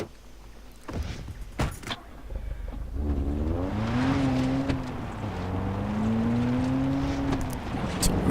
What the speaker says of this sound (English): Yeah, we can drive a car.